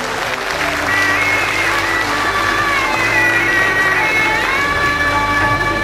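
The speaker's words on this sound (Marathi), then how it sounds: "एकदा जोरदार टाळ्या होऊन जाऊ देत मंडळी" Loud, sustained applause from an audience at a felicitation ceremony inaugurating a journalists' building, steady clapping filling the whole stretch with some crowd cheering and a faint voice or tone running underneath.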